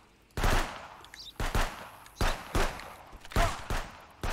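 Gunfire in Contraband Police: about seven or eight loud, close single shots at an irregular pace, some in quick pairs, each with a short echoing tail and no talk.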